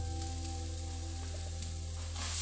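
Food sizzles and fries steadily in a hot pan over a flame, a continuous close hiss with a low hum beneath and no talking.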